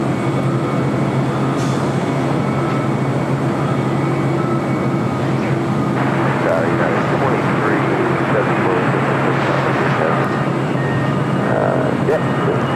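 A jet airliner taxis at LAX airport. Its loud, steady engine roar and rumble fill the whole stretch without letting up, with faint voices mixed underneath.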